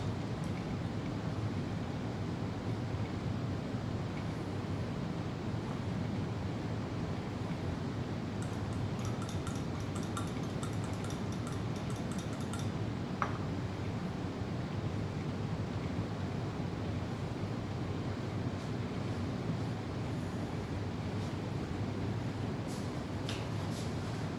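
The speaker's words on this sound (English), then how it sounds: "rinsing off the high concentrations of the sodium chloride that were inside" Water runs steadily while sodium chloride is rinsed off, a constant broadband rush like a tap or hose filling the whole stretch at even loudness, with faint brief clinks in the middle and no talk.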